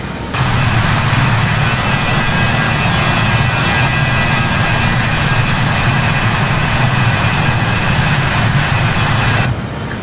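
Steady jet engine roar from a BAe 146 airliner in Microsoft Flight Simulator, a continuous broadband drone with low rumble and high whine held evenly throughout, heard alone without talk.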